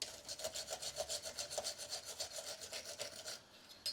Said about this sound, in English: I'll clean both sides of them, just give them a dust off